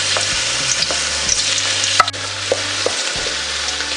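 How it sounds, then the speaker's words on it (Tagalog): Garlic sautés in hot oil in a pan, a loud continuous sizzle with occasional stirring clinks and scrapes and a low hum underneath. "Ngayong mainit na po yung ating oil ay pwede na nating simulang igisa itong ating bawang."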